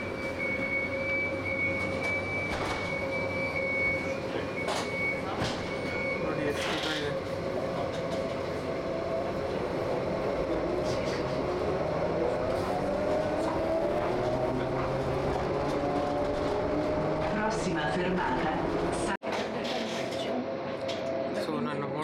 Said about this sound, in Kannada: ಸೊ ಇದು ಲೋಕಲ್ ಟ್ರೈನ್ಸ್.